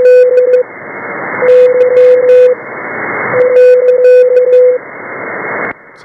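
Radio receiver audio played back through SDR software, with a steady hiss broken by a repeating beeping tone in bursts that stop and start, loud and close.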